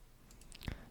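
A single faint mouse click as the plus button is pressed in Tekla Structures software, a brief sharp tick in an otherwise quiet room.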